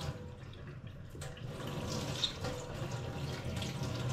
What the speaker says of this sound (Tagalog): Hugasan maigi para matanggal yung mga anong nandyan.